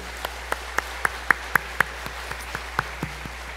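A church congregation at a Sunday worship service claps together in a steady, even rhythm, each clap landing in unison over a low background hum.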